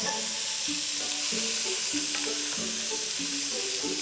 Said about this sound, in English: Then in the same pan, fry the bacon. I'm using smoked for extra flavour, along with roughly chopped onion and celery.